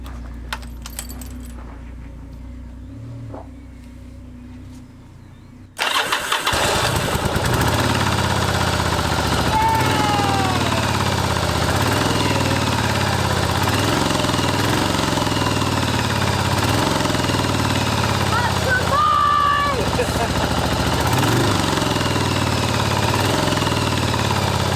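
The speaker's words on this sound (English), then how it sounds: "We'll stick it on reserve and then try and start it." A vehicle engine, switched to reserve fuel with the choke on, is started with a key: keys jangle briefly, then the engine catches loudly and settles into a rhythmic, pulsing idle that runs steadily for the rest of the clip.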